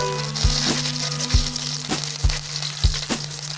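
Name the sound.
curry leaves sizzling as they are added to hot oil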